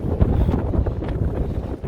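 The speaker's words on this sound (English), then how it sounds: "Sorry for the wind, everybody. This is what we're up against." Strong coastal wind buffeting the microphone with a heavy, roaring rumble, steady and gusting throughout, no voices, on the shore at Silloth.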